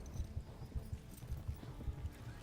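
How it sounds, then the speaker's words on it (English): Horse hooves clip-clopping in the medieval game Kingdom Come Deliverance, a quick steady trotting rhythm of soft thuds, faint and close. "my horse won't go that fast"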